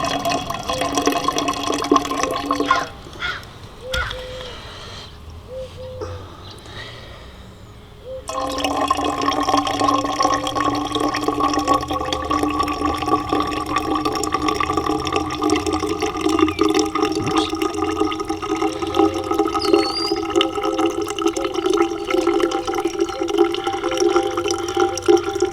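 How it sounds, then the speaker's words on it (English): Coffee poured slowly into the jar of a Stanley Mountain Coffee System makes a steady, close liquid pour that runs for a long stretch, briefly pausing before resuming with an even trickle. "you open up your jar, or your actual thing here, and you pour the rest"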